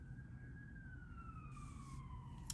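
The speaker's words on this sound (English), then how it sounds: "I don't think I can edit out that ambulance." An ambulance siren passes outside, faint and distant, its single wailing tone gliding slowly downward in pitch under a quiet indoor background.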